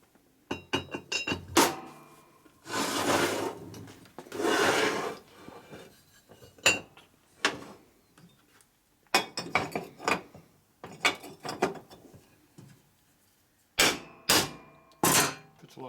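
A lubricated reamer sizes a bushing during a stock 1983 FLTC 80ci shovelhead motor rebuild, giving repeated bursts of close, gritty metal scraping and clinking separated by short pauses.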